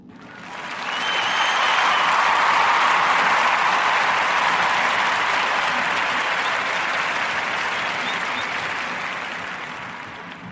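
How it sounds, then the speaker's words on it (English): An audience applauds for Ben Blunt, a dense round of clapping that swells in quickly, holds steady for several seconds, then slowly tapers off. "Round of applause for brother Ben Blunt and Blunt Objects greeting cards"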